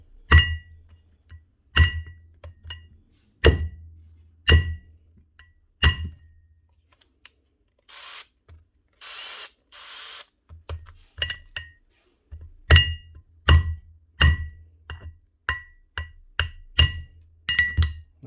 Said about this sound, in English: just hit the corner of the chuck.